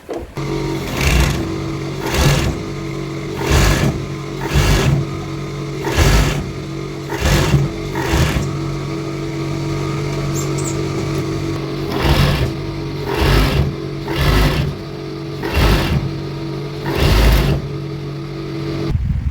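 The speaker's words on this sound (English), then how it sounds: "I'm going to use cover stitch to finish it up" A cover stitch sewing machine hems a pair of boxer briefs in a string of short, loud, rhythmic stitching bursts over a steady motor hum, repeating with brief pauses throughout and no talking.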